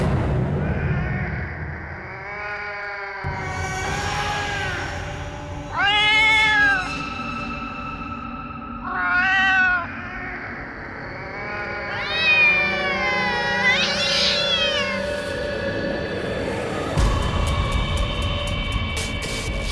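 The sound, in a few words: cat meowing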